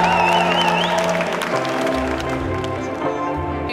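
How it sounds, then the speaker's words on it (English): Audience applause at a graduation ceremony at Abbey Road Studios, a dense patter of many hands clapping indoors that continues steadily, fairly loud and close. "I'd like to give a hearty round of applause to Abbey Road Studios for hosting tonight's ceremony."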